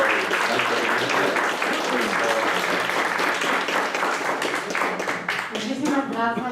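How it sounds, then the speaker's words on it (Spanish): An audience at a Spanish-language lecture on migration and human rights welcomes a speaker with dense, sustained applause that stays loud throughout, with a voice speaking near the end. "les pido que recibamos con un aplauso a la maestra Liliana Granados Covarrubias"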